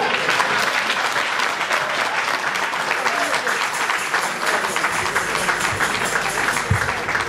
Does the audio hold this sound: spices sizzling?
no